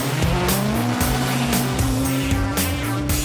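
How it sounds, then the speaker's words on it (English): Mercedes-Benz DTM race car heard from close up, its engine roaring loudly and continuously while the tires squeal in a steady high whine throughout, with no voices. "Mercedes GP Petronas driver Nico Rosberg at the DTM. And as a taxi driver, no less"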